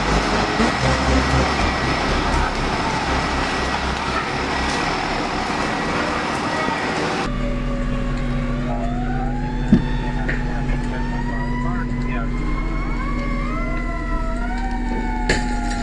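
A fire apparatus pulls onto an active fire ground at a working fire, its loud engine rumble and steady drone giving way midway to a lower idle with rising and falling siren-like tones and radio chatter nearby.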